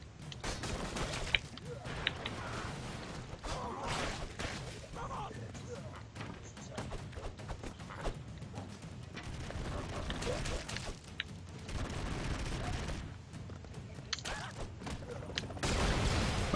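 Bursts of video-game gunfire and thuds in Broforce run throughout under someone talking in French.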